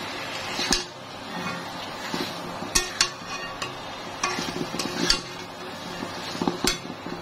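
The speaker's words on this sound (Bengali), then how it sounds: "তো এখন আমি একটু নেড়ে চেড়ে নিব" Shrimp and kochu loti (taro stolons) get stirred in a pan with a metal utensil: irregular clinks and scraping taps against the pan over a steady low background, with no talk.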